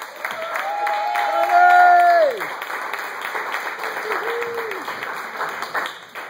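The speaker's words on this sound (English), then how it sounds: "let's bring him to the stage with some claps" At a comedy club, the audience applauds as a comedian walks on stage, with steady clapping and a few whoops under tonal music stings and a host's voice.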